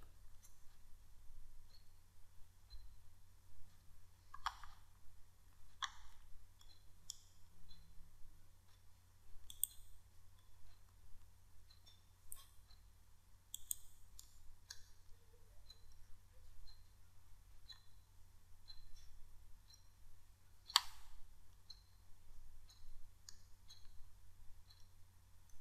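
Computer mouse clicking while filling out a freelance job proposal form online: scattered light, crisp clicks at irregular intervals over a quiet background, close and faint.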